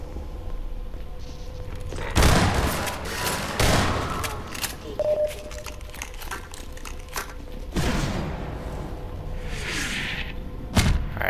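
Shotgun blasts in the video game Half-Life 2: four loud, sharp booms at irregular intervals, separated by quieter stretches of game ambience.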